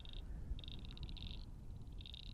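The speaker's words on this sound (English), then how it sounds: "It's not crickets, sorry, frogs." Frogs calling outdoors in a landscape setting, a repeated high trilling chorus in bursts over steady low rumble of wind or distant ambience, moderately near and fairly quiet.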